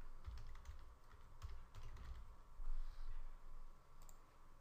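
Soft, irregular keystroke clicks from a computer keyboard, a few scattered taps then short bursts of typing, faint and close over a quiet room hum.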